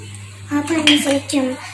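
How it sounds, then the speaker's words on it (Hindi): A child stirs Maggi noodles in a metal pot, a spoon scraping and clanking against the sides in a few quick, close strokes over a low steady hum. "टाकून दे सगळं आणि हलवून चांगला मिक्स करते"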